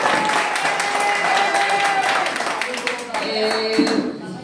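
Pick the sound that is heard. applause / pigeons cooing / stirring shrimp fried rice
applause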